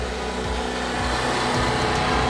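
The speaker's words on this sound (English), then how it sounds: "you can hear the generator in the background" A steady, droning generator hum runs continuously in the background, with low rumbling tones and a constant broadband wash, no talking.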